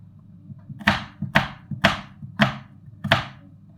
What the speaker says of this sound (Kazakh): Жуаны қатты ұсақтаудың қажеті жоқ